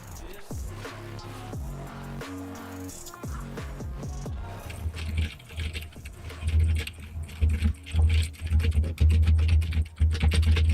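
Fingers type on a computer keyboard, starting as scattered clicks and building into rapid, loud, close clacking with dull thumps underneath.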